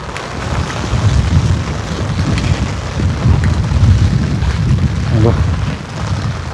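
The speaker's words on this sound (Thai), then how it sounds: "ทั้งลมทั้งฝน" Strong wind and a sudden heavy rainstorm roar steadily throughout, a dense low rumble with buffeting gusts that swell and ease, loud and close as if striking a vehicle.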